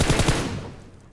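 Automatic gunfire from a weapon in the mobile battle royale game PUBG Mobile, a loud dense burst of rapid shots that fades over about a second, heard alone.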